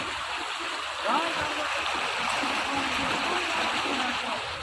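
Water rushes steadily through a village irrigation canal near Chhatiana on the Jaito distributary, close to breaching after a sluice gate was shut, making a constant, loud flowing roar with voices faintly underneath.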